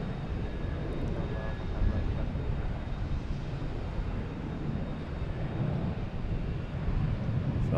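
A Delta Boeing 737 airliner takes off at Boston Logan Airport, a broad rumbling engine roar heard from a distance with some wind buffeting, holding steady throughout.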